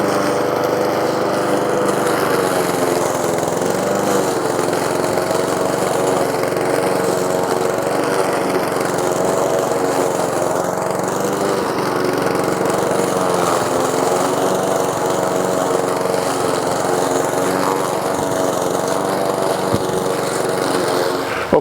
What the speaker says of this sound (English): Took my lawnmower, set it at the highest setting that it can be